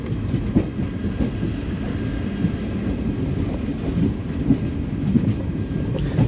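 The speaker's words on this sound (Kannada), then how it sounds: "ಈಗ ನಾವು ಡಿಪಾರ್ಟ್ ಆಗಿದ್ದೀವಿ ಆನಂದಪುರಂ ರೈಲ್ವೆ ಸ್ಟೇಷನಿಂದ" The Mysuru–Talaguppa Intercity Express rolls out of Anandapuram railway station, heard from on board as a steady low rumble with rhythmic wheel clatter on the rails and no talking.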